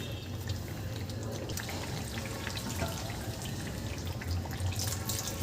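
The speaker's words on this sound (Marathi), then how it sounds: "इथे मी गरम केलेलं पाणी घालते." Heated water from a pan lid poured into a brinjal and potato curry, giving a soft, continuous watery trickle and splash that runs steadily at low volume, close by.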